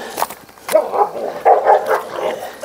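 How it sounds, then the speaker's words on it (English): Dogs bark and yip excitedly outdoors near a cow slaughter, a few sharp barks in quick succession with some whimpering, moderately close. "There are little puppies out there."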